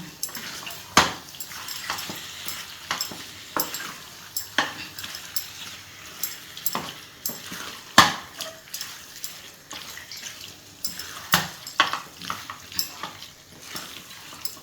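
Prawns with turmeric stirred in a pan: steady clinks and scrapes of a spoon against the metal with a soft sizzle underneath, irregular and close, no talk.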